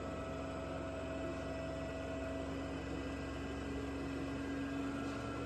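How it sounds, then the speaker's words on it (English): Three-phase motors running coupled to a synchronous alternator produce a steady, even machine hum with a constant whine and broadband noise, unchanging throughout. "the motors are rotating with the coupled with the alternator"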